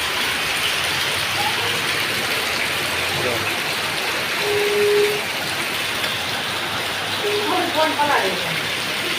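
Steady broadband hiss of heavy rain falling in Vatam village, Banaskantha, Gujarat, continuous throughout, with faint voices and a few brief tonal sounds in the background.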